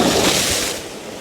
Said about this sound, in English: these waves keep hitting the rocks